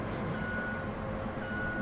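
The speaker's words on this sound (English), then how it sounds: "There's a backup alarm. Listen." Backup alarm of a telehandler reversing in the SnowRunner video game, a faint steady electronic tone holding through the short span over low engine rumble, with no speech.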